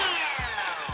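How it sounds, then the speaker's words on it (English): A small air blower hisses continuously for about a second, drying alcohol off a computer part from an all-in-one PC, a steady close rushing sound with a couple of faint low thumps underneath. "I'll give them a quick little blow with the blower to evaporate the alcohol"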